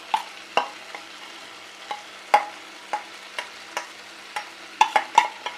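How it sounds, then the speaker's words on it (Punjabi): A spoon stirs spice masala into tomatoes and onions frying in a pan for dhaba-style paneer bhurji, sharp irregular scrapes and clinks over a quiet sizzle, close and without talk. "ਇਹ ਆਪਾਂ ਸਾਰੇ ਦਾ ਸਾਰਾ ਮਸਾਲਾ ਇਹਦੇ ਵਿੱਚ ਪਾ ਦਾਂਗੇ"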